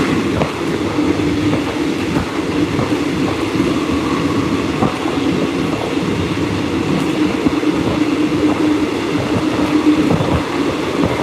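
A passenger train runs toward Kanchanaburi, Thailand, its steady loud rumble and rhythmic wheel clatter filling the whole stretch without voices.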